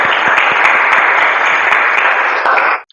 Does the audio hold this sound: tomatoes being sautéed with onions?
no